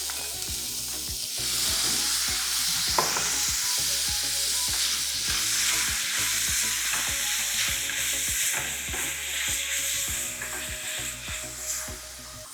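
Onion frying in a pan for soup, a steady bright sizzle with a spoon scraping and stirring in regular strokes, close and alone without talk.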